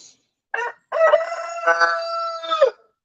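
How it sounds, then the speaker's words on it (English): A rooster crows nearby: a short call followed by a long, drawn-out crow, loud and clear against a quiet background. "And the roosters."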